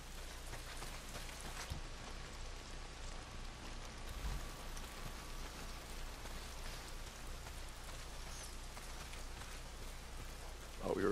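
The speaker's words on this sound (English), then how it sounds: "Not if it's pissing down the rain" Rain pouring steadily in the video game Days Gone, a constant soft hiss of falling drops on surfaces, fairly quiet and even throughout, with no voices.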